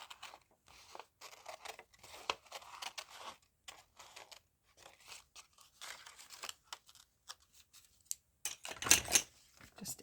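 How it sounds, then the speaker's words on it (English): Scissors trim book page paper for crafting, giving a string of short close snips and crisp rustles, with a louder crinkling handling of the paper near the end. "I just need to trim it away from the bulk of the paper."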